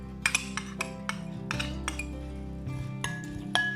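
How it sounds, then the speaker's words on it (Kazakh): Frozen currants and cherries stirred with corn starch in a bowl, giving repeated clinks and taps of a spoon against the bowl in an irregular rhythm, close and clear over a steady low background hum. "Шие мен қарақатты крахмалға араластырдым"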